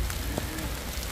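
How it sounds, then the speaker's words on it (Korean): Heavy rain pours steadily at an outdoor music festival, a dense, constant wash of downpour noise with no clear pauses. "페스티벌에 비가 오고 있습니다. 그것도 미친 듯이."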